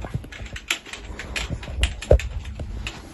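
Fingers type an e-mail on a computer keyboard in a quick, uneven run of close key clicks, heard with no one speaking.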